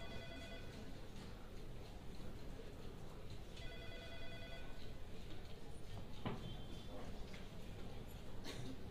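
An office telephone rings and goes unanswered, two faint bursts of trilling electronic ringing separated by a pause, while people argue indoors.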